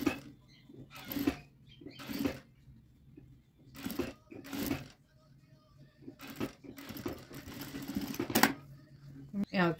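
A sewing machine stitches a blouse cuff in repeated bursts of fast, rattling mechanical stitching with short pauses between runs, and someone talks between and over the runs.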